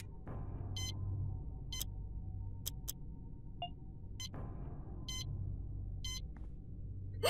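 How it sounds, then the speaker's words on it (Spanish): Short electronic beeps sound at irregular intervals in the video game Yuppie Psycho, sharp and clear over a low, steady rumbling hum, with a couple of deeper tonal blips between them. "Porque el pitido me estaba poniendo nerviosa."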